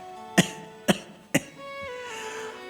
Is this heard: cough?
yes